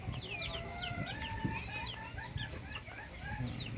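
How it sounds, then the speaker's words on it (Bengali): Native Bengali chickens and chicks on a small farm cluck and cheep continuously, many birds chattering close by in a busy, overlapping chorus. "কত সুন্দর দেশি মুরগি সব"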